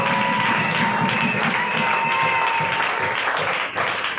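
A church congregation claps and cheers loudly and continuously for a few seconds, a dense crowd sound that thins out briefly near the end.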